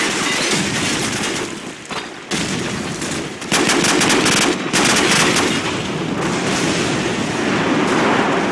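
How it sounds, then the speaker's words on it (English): Dense automatic gunfire and heavy bursts during an online Call of Duty 4 multiplayer match on PC, sustained rapid shots with brief gaps and loud explosive impacts, no talking. "Friendly airstrike on the way."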